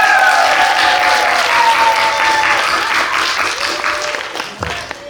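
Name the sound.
audience applause at a student presentation contest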